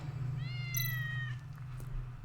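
A cat meows in the video game Tales of the Neon Sea, one clear, rising then falling meow over a steady low background hum.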